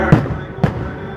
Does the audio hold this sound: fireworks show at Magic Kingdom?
yes